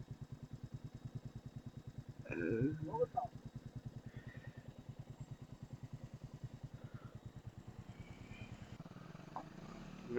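A motorcycle chugs along a rough off-road track with a steady pulsing engine throb, close and fairly faint, while a voice talks briefly partway through.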